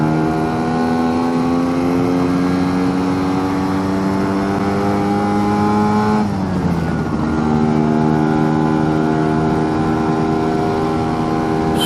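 A Lambretta two-stroke scooter engine, running rich at altitude and a little rough, drones loud and close with a buzzy steady tone, then dips and climbs again as it changes gear partway through, with no voices.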